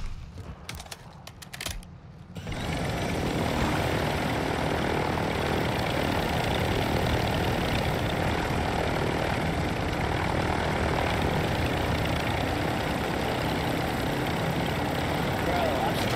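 A helicopter in the shooter game Call of Duty DMZ, a dense, loud rotor and engine roar that swells in after a brief quieter stretch and then holds steady.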